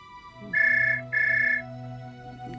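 A phone rings twice with a steady electronic tone, each ring lasting about half a second, over faint background hum.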